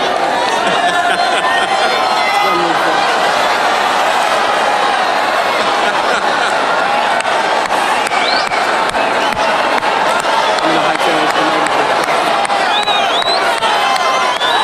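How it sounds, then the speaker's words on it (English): A rally crowd cheers and shouts as Donald Trump throws pens into it, a loud, dense roar of many voices lasting throughout, with scattered claps and thumps. "here's Donald Trump throwing those pens into the crowd."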